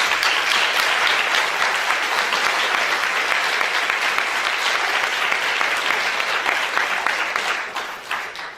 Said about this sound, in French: Je pense que ça vaut une bonne main d'applaudissements.